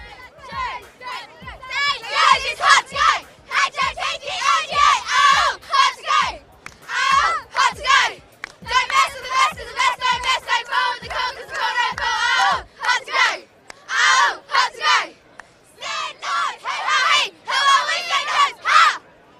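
Primary schoolchildren from Murray Bridge North School shout and chant together as a loud crowd at a sports day event, rhythmic bursts of massed young voices with brief pauses between phrases.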